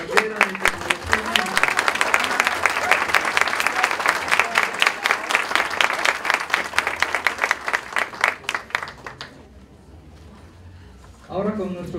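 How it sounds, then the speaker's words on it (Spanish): An auditorium audience applauds technology program students at an academic awards ceremony, steady rhythmic clapping from a crowd for several seconds that fades out, followed by a short pause and a burst of voice. "Entonces los aplausos son ahora para los de la carrera de tecnología."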